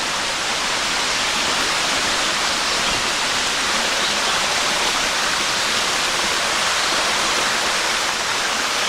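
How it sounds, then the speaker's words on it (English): Steady, full rush of a waterfall in Shenandoah National Park, loud and close, with falling water roaring continuously and no voices. "Oh, I hear a waterfall."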